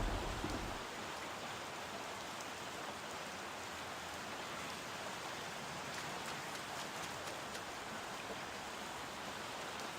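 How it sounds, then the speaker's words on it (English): Heavy rain in a video game pours steadily, a dense continuous hiss of drops on surfaces with no break, fairly close and with no voices. "It's raining cats and dogs."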